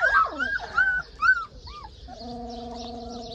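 Puppies on a rural property give high, thin whimpers and whines in short rising and falling bursts, then a steadier drawn-out tone follows, all fairly faint with quiet background noise.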